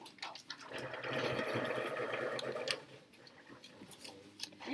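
Pencil being ground in a classroom pencil sharpener, a steady whirring buzz that runs for about two seconds in the middle at moderate level, with faint room noise and small clicks around it.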